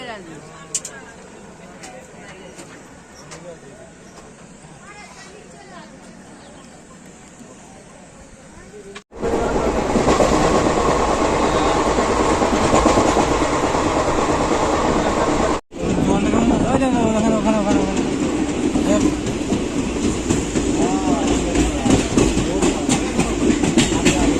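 Passenger train on the rails between Howrah and New Jalpaiguri: a low rumble gives way to a loud, steady rushing clatter that drops out briefly and then resumes, with voices talking over it.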